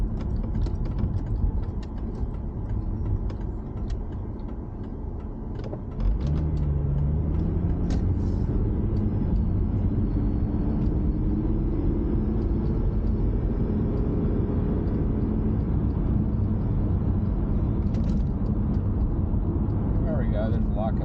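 A Ford Mustang with a rebuilt transmission and lockup torque converter cruises on the road. Low engine and road rumble is heard from inside the car, with an engine tone that shifts and rises partway through and a voice talking over it.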